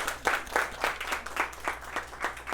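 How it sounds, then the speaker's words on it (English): Small audience in a high school teaching competition clapping in a loose, rhythmic patter of roughly eight or nine pulses over a couple of seconds, moderately close and without talk. "Give everybody a round of applause."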